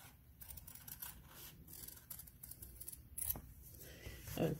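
Scissors snip through fabric while a patch is cut out, giving a run of close, soft crunching cuts and rustles, with one sharper cut near the end.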